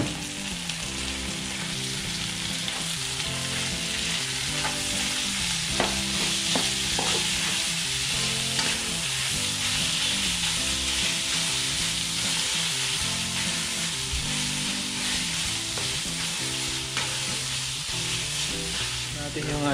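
Ground meat (giniling) fries and sizzles in a pan for Filipino Jollibee-style sweet spaghetti, a steady, loud close-up crackle that carries on without a break, with occasional stirring.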